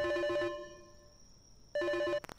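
A telephone ringing during a power outage, two bursts of a harmonic electronic ring separated by a quieter pause with a lingering tone, fairly close and loud, no talking.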